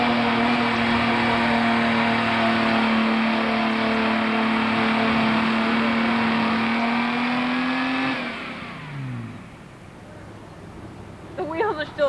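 A car from a 1993 spring outing in Dresser, Wisconsin sits stuck with its wheels spinning, the engine revving steadily and loudly for about eight seconds before dropping away, followed by quieter rustling and scraping.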